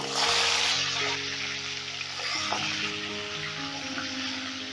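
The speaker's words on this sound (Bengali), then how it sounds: "এবারে গ্যাসের আঁচটা মিডিয়ামে রেখে মুড়োগুলোকে আমি হালকা করে ভেজে নেব, বেশি কড়া করে ভাজবো না।" Katla fish heads, rubbed with salt, turmeric and chili powder, sizzle in hot oil on a medium gas flame, a steady close crackle and spitting with soft clinks of stirring throughout.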